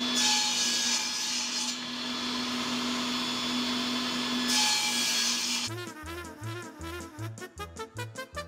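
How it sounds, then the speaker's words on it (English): Small wooden blocks for a radiator cover are cut and sanded with power tools, starting with a sustained loud grinding whine and then shifting to a rapid series of rhythmic scraping strokes. No one speaks. "we have to cut and sand like 200 little wooden blocks"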